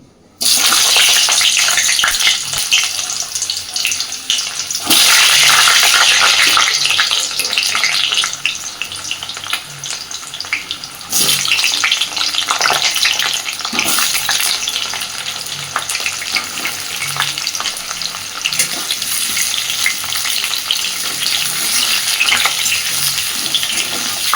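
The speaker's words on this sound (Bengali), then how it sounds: "এইবারে আমি কেটে ধুয়ে রাখা আলুগুলোকে আগে সুন্দর করে ভেজে নেব।" Cut potatoes fry in hot mustard oil in a kadai, a loud steady sizzle and bubbling that runs throughout, with occasional scraping and stirring noises.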